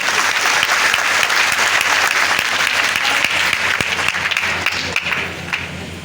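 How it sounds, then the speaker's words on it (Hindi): Loud, sustained applause from an audience at a direct-selling business gathering in Gorakhpur, dense and steady throughout before tapering slightly at the end. "अपने लिए एक बार जबरदस्त ताली बजाए, जबरदस्त।"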